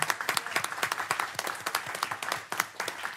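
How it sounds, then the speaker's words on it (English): A crowd at a city council meeting applauds with dense, steady clapping that holds at moderate volume throughout, with a few louder individual claps standing out. "let's give them a round of applause for doing a great job here"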